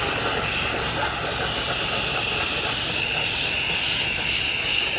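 A steady water spray rinses vinyl siding during fallout removal, giving a loud, continuous hiss that holds unbroken throughout, with no talk over it.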